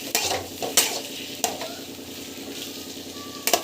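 Egg and fish masala gravy sautés in a pan, with a steady soft sizzle under repeated scraping stirs and a few sharper utensil knocks against the pan, heard close with no talking.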